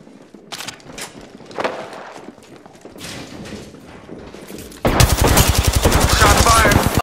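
Rapid automatic gunfire from Apex Legends erupts loudly in the final seconds, a dense burst of shots following quieter game sounds and scattered clicks.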